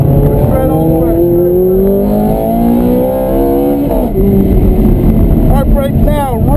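Ferrari F430 Scuderia engine at an autocross at Candlestick Park, loud and close, rising in pitch through the gears, dropping sharply under braking, then climbing again, with a person speaking over it.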